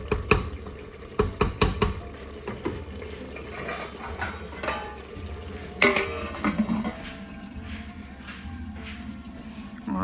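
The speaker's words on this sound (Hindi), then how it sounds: "इसके अंदर मैं डाल दूँगी थोड़ा सा पानी, हल्का सा ये, और इसको हल्के आंच पे थोड़ी देर के लिए ढक दूँगी" Kitchen sounds as water is added to lauki chana dal in a pan and a lid goes on: sharp clinks of utensils against the pan, a soft stir and pour, then steady background hiss.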